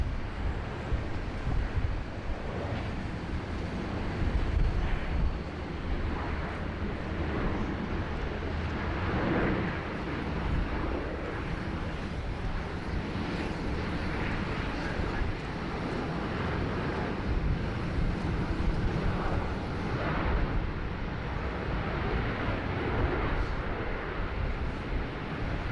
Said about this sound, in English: the Scoot 787-9 just taxiing out as well.